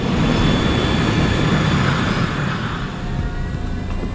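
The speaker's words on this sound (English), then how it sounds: "Continental 1713, runway 35 left, cleared for takeoff." A Continental Airlines airliner takes off in a snowstorm, its engines a loud, steady broadband roar that holds strong before easing slightly toward the end, with no talk over it.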